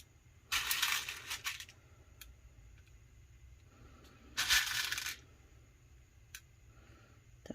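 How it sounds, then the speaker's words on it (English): Small beads pour into a tumbler in two rattling, clinking bursts about four seconds apart, each lasting roughly a second, close and moderately loud against a quiet background. "I'm just gonna start filling it in with some of my little beads"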